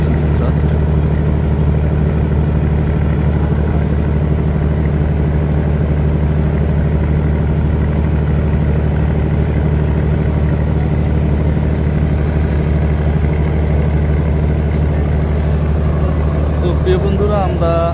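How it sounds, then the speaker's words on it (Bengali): Engine of the Al-Oyali 4 passenger launch on a Dhaka–Chandpur river trip, a steady loud low diesel drone with strong harmonic hum running throughout, a voice talking over it at times. "আপনাদের আলওয়ালির 4 লঞ্চের ইঞ্জিন থ্রাস্টটি দেখাই"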